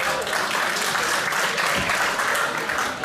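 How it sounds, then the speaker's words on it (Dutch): A crowd applauds two fighters at a Fight Dome kickboxing event, a dense, steady wash of clapping that runs loud and unbroken, with a voice faintly under it. "mag ik een grote applaus voor deze twee vechters"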